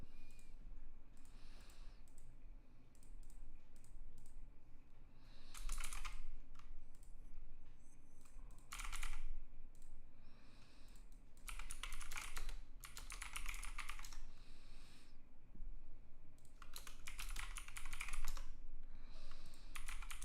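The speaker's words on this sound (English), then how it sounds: "Why am I not typing?" Computer keyboard typing comes in irregular bursts of rapid clicking keystrokes separated by short pauses, close and clear with no speech.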